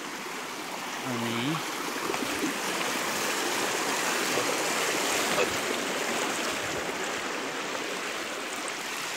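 The Chundi river, a stream with no bridge, rushes past in a steady, dense flow, with a brief voice near the start.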